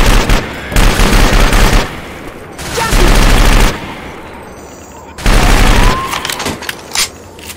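A machine gun in the video game Left 4 Dead 2 fires in three loud sustained bursts, rapid rattling volleys separated by brief quieter gaps.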